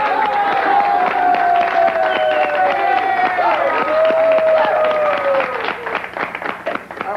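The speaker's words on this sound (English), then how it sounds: "All right, a big round of applause." A studio audience claps and cheers loudly at a broadcast comedy show, a continuous dense wash of applause running throughout while a voice talks over it at length and the clapping thins toward the end.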